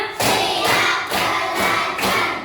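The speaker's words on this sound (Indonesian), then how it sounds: "Tepuk satu, tepuk dua, tepuk tiga, tepuk empat" Pupils in a classroom clap in unison to a counting pattern, five dense rounds of clapping, each a short burst, coming close and loud one after another.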